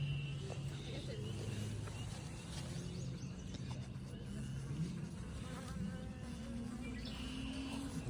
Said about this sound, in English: Take some bees.